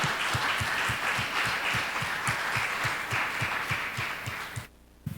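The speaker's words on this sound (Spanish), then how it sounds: "démosle un aplauso al Señor" A church congregation claps together in a steady rhythmic beat, loud and sustained under a low pulsing thump, then drops away abruptly near the end.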